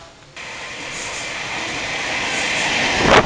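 Train at Duri railway station in Jakarta, a rising rush of rolling wheels and track noise that swells and grows louder toward the end, heard close up without voices.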